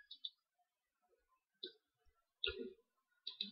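Several crisp computer mouse clicks land on a website link, spaced irregularly as short, sharp taps in a quiet room, with no talking.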